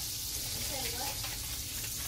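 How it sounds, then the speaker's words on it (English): Tomahawk and cowboy-cut ribeye steaks sizzle on a buttered Rock Grill griddle, a steady broadband hiss of frying fat with faint crackles throughout, a brief murmur of voice midway. "Now we're going to put the tomahawk on and the cowboy steak."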